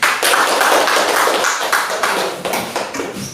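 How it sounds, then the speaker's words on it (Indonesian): A classroom of students applauds a group of classmates. Loud, dense clapping runs steadily for a few seconds and then tapers off slightly. "kasih aplaus untuk kelompok A"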